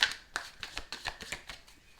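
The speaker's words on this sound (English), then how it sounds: "Let me just shuffle one more time because a little bit too many cards." Tarot cards being shuffled by hand, a quick series of crisp papery riffles and taps in an even rhythm, close and moderately quiet.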